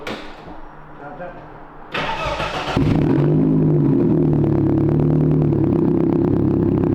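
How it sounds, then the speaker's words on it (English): A 1.9 twin cam car engine cranks with a whirring starter, then catches and settles into a rough, rumbling idle, close by; someone speaks briefly before it turns over. "Start her up, George."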